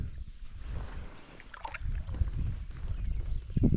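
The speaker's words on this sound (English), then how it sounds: "We were paddling through Jenny Lake" A canoe is paddled across Jenny Lake, with soft low water swishes and paddle strokes against faint wind, close and fairly quiet.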